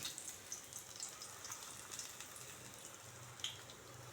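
Brinjal slices fry gently in hot oil over a low flame, making a soft, steady, faint sizzle with occasional tiny pops.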